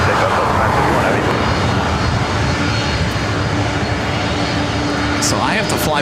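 A Delta heavy jet roars down runway 24 right at LAX on its takeoff run, a loud, steady engine rumble and hiss that holds throughout, with a radio voice briefly heard over it.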